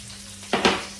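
Dried red chillies hitting hot oil in a pan for a prawn fry, giving a sudden close spluttering sizzle that swells briefly and then fades.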